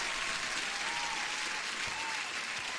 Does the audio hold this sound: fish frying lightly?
no